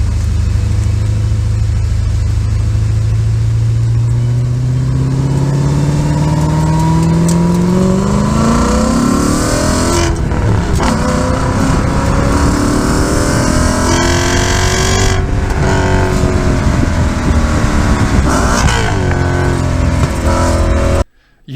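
Loud, sustained engine note from an Audi RS4 Avant out on a race track, the revs climbing steadily through the gears with brief drops at each shift, steady and close the whole way.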